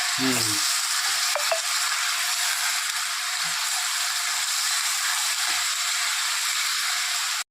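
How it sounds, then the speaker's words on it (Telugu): Chicken fries in a pan with a continuous, close, dense sizzle and hiss that holds steady throughout, with a brief low clatter at the very start. "బాగా ఎరబడి వేగిపోవాలి చికెన్"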